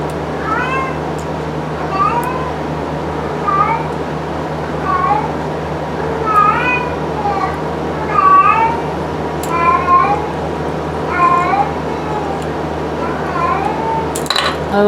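Cats meow repeatedly and close by, roughly a dozen short calls spread at an uneven rhythm over a steady low indoor hum, with faint clatter near the end.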